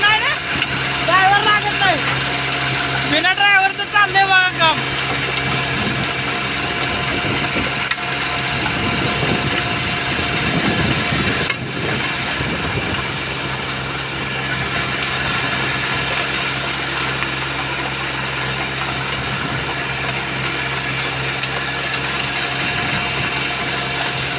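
A tractor engine idles and runs on with nobody at the wheel, a steady mid-pitched rumble beneath someone speaking Marathi, with a brief clatter early on.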